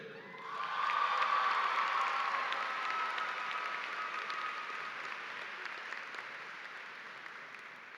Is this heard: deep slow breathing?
no